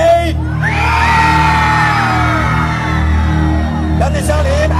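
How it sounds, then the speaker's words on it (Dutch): A Halloween Fright Nights audience screams loudly on cue after a countdown, a sustained roar of yelling and shrieking voices lasting several seconds before fading into scattered cheers. "Ik tel af van 3 naar 1 en dan gaan jullie heel hard gillen."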